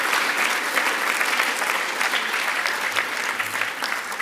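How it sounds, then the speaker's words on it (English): A large Palestine Expo audience giving a loud, sustained round of applause for the event's volunteers, a thick steady roar of many hands clapping with no speech over it. "Also give a round of applause for the Palestine Expo"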